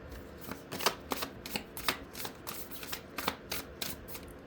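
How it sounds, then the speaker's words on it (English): Tarot cards being counted and shuffled by hand: a steady run of crisp riffling snaps and soft paper slaps in an uneven rhythm, close and fairly quiet, with no talking. "I'm gonna count to see if I'm missing cards"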